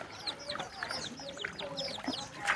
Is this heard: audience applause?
no